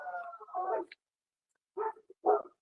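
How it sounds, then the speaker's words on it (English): Dogs barking and yipping indoors, a few sharp barks in two short bursts separated by a pause, moderately close and fairly quiet. "Dogs are barking."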